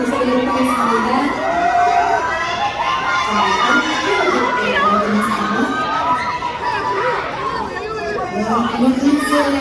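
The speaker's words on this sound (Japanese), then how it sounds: "この歓声いかがですか？" Large crowd at a red carpet event for a Demon Slayer Infinity Castle premiere in Korea cheers and shrieks continuously, a dense high-pitched roar of many excited voices, loud and close throughout.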